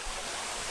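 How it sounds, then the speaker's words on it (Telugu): A forest waterfall pours down forcefully, a loud, continuous, broad rushing roar close by with no other sounds. "వాటర్ అయితే ఫోర్స్గా వస్తున్నాయి అన్నమాట"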